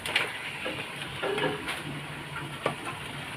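Chicken pieces are tipped into a pan of frying spice paste, giving a steady close sizzle with a few soft clatters of meat and utensil against the pot.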